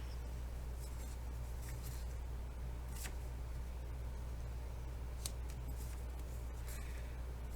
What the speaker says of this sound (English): Oh, I could fussy cut that guy out.